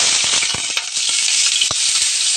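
Potatoes and onions sizzle loudly in hot refined oil in a pan, a dense continuous frying hiss with scattered crackles and pops.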